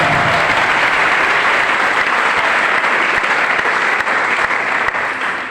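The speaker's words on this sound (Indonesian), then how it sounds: "Mari kita berikan tepuk tangan." A youth audience at a church youth day event applauds Saudara Fredrickson, a dense, loud, steady wash of many hands clapping that carries on without pause and eases slightly toward the end.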